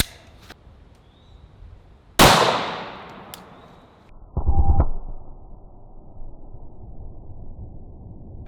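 A single sharp Glock 17 pistol shot cracks out loud and close after a quiet stretch, followed by a ringing decay, then a shorter metallic clatter and low rumble later.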